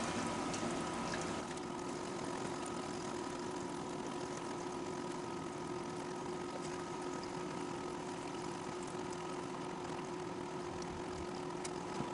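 Water pours steadily into a wringer washer tub, a constant, even rushing hum with a low drone underneath that holds without change throughout.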